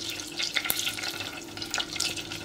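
Soft, steady sizzling of a tablespoon of butter melting in a pot, a continuous hiss with faint scraping and light clinks, close by.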